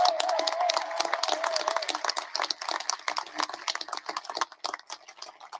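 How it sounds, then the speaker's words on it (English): Graduation audience at a 2021 high school commencement giving a round of applause for the top scholars; dense, steady clapping from a large crowd that thins toward the end, with a sustained tone briefly heard early on. "One more round of applause for our top scholars"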